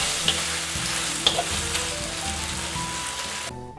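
Beef stir-fry with chives sizzling and frying in a hot pan while being stirred, with a steady loud crackle, a few sharp clicks of the utensil against the pan, and a sudden cut-off at the end as the heat goes off.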